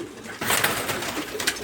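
Ornamental pigeons kept in a cage coo softly at close range, a few low throaty calls rising over faint background noise.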